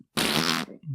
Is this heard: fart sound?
yes